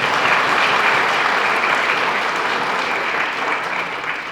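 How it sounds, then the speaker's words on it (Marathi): Audience applause at a junior college's annual prize-distribution ceremony, a dense, sustained burst of many hands clapping together, loud and steady before tapering slightly at the end, with no speech over it. "यासाठी आपण टाळ्या वाजवल्या पाहिजे."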